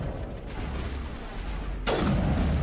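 Gunfire in the Mass Effect video game, a steady rumble of shots followed by a louder burst or impact that jumps in loudness near the end, with no talk over it.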